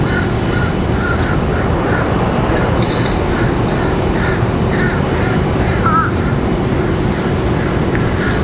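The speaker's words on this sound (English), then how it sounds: "I think these crows have followed me from RDU up here." Crows at Washington Dulles airport caw several times at middle distance, their calls sitting over a loud, steady roar of airport and wind noise.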